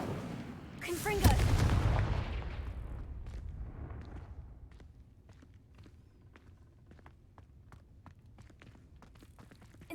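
Spell blasts in Hogwarts Legacy, with a sharp burst and a heavy rumbling boom near the start that decays over a couple of seconds, followed by a run of quieter, scattered crackling impacts.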